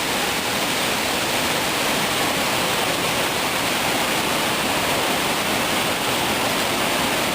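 The Probiy waterfall in Yaremche roars steadily, a dense, continuous rush of falling water with no breaks and no voices.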